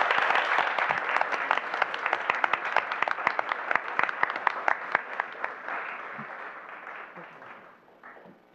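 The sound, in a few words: audience applause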